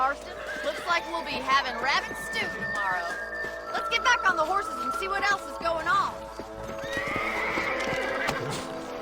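Horses in the Red Dead Redemption video game whinny and neigh repeatedly while hooves clip-clop steadily underneath, with speech and game sounds mixed in throughout.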